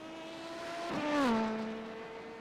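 A race car engine in an IMSA racing video game, likely a hypercar or LMP2 prototype, whines steadily and then drops in pitch as it rushes past, swelling louder at the middle and fading.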